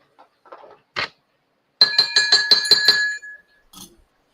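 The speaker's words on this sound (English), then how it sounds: "The bell." A bell rings in a quick run of about six bright, tonal strikes with sustained ringing overtones, close and fairly loud, preceded by a few faint short sounds.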